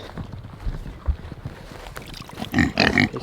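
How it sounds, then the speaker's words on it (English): Several pigs on a homestead during a heat advisory grunt and snuffle close by, with a louder burst of grunting near the end over quiet farmyard background. "Check on our 4 piggies."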